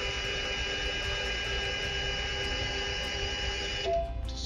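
A Matia Robotics electric lift motor runs with a steady, close electric whine and hum, then shifts and drops off near the end, with no talking.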